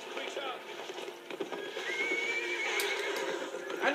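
Lord of the Rings Conquest game audio: a horse neighs with a rising whinny while hooves clatter at a gallop, building slightly louder over the brief span, with a voice speaking briefly.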